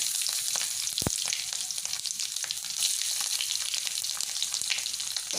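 Mustard seeds, curry leaves, ginger and garlic frying in hot oil for an onion pickle, a steady dense crackling sizzle with scattered sharp pops, close and continuous for the whole stretch with no talking.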